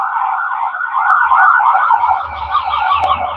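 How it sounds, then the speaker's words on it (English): A loud ambulance siren wails in a steady warbling sweep on a New Orleans street during Mardi Gras, close and continuous, with low traffic rumble building underneath as it passes. "got some police sirens going down right now."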